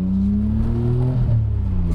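A Suzuki Cappuccino's small engine drones steadily from inside the car, its pitch climbing briefly before dropping away as a gear is shifted, loud and close with no talk.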